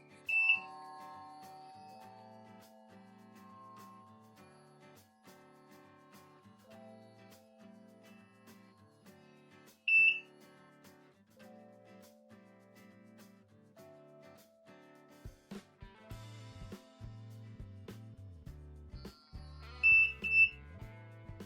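Short high electronic beeps from an electric face-cleansing brush timer sound at regular ten-second intervals over a one-minute cycle, over soft background music, each a quick double or single chirp.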